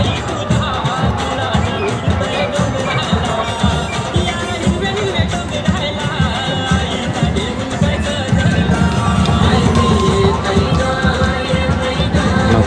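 Dense crowd of pilgrims packed at a temple in Maharashtra, a steady loud babble of many overlapping voices with shuffling and bursts of shouting, while a nearby person talks over it.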